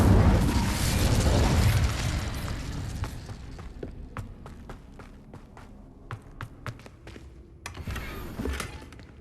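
Incendio fire spell cast in Hogwarts Legacy: a loud fiery burst and roar fill the first few seconds, then fade into sharp scattered pops and crackles over quieter ambience.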